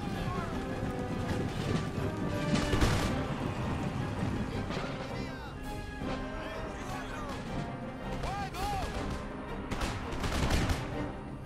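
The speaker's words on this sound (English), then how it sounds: "So my brave boys are still firing." Soldiers fire volleys of muskets in the historical battle game Empire: Total War, repeated crackling shots scattered across a busy battlefield with music and shouts, and someone talks over it.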